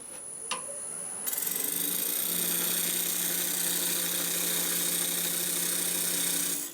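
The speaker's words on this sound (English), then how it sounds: "So I'm just more or less going to do a plunge cut straight in." Parting tool plunging straight into spinning wood on a lathe, starting with a brief tap and then a steady, sustained scraping whine with a rough, rasping edge that carries on until the cut ends.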